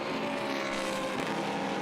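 A GT race car, a Lamborghini or McLaren, sweeps past during free practice at Silverstone, a loud continuous engine howl that holds steady through the short pass.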